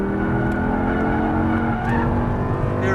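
Audi R8 on a Las Vegas track, a loud steady engine drone with harmonic whine from inside the car, tires faintly squealing as it brakes and corners.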